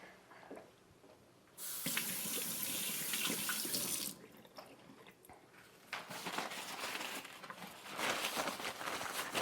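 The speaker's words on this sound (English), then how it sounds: "I'm going to go ahead and wash my hands." Tap water runs into a kitchen sink while hands are washed, a steady close rush that starts and stops, with splashing and rubbing in between during a heart-healthy cooking demonstration.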